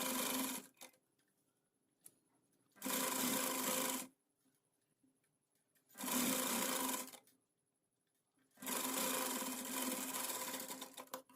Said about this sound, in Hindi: जहाँ पे स्टिच की है उसी स्टिच के ऊपर हमें डबल स्टिच करना है